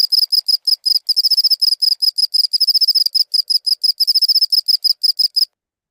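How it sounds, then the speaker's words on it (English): Pacific field cricket (Teleogryllus oceanicus) calling song made with its wings: loud, close, rapid pulsed chirps in quick trains and longer trilling bursts, repeated rhythmically and alone with no background noise. "the cricket's wing is the instrument, and it produces a signal, a loud, long-distance song"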